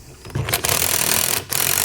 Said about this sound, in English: Then we'll grab a 3/4 inch wrench